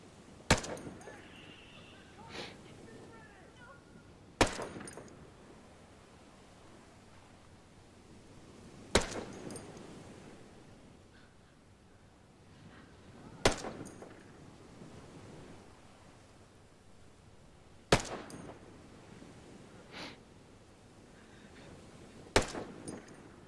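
Single rifle shots from a 553 fired without a suppressor in the video game Ghost Recon Breakpoint, six sharp loud cracks spaced about four seconds apart over steady wind and surf-like outdoor ambience.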